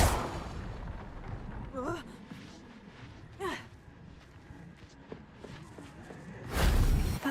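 A fiery Incendio spell is cast in Hogwarts Legacy: a loud, broad whoosh bursts near the end and lasts under a second, after quieter game sounds and a few short vocal sounds.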